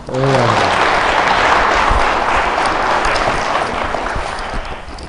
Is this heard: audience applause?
yes